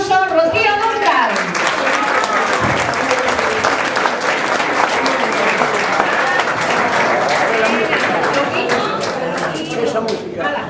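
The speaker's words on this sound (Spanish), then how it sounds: "con un fuerte aplauso" Loud, sustained audience applause at a musical festival show as the singer is introduced, dense clapping from a large crowd continuing steadily throughout with scattered cheers.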